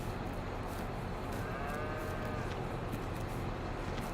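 Cows mooing in Farming Simulator 22, a long low moo rising over steady loud farm ambience, with faint additional lowing in the background and no voices.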